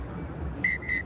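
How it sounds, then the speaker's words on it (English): A referee's final whistle at a Safaricom Sevens rugby match between Spain and Belmont Shore, heard as two thin, distant blasts rising over the steady murmur of the stadium crowd. "yeah, that's the final whistle."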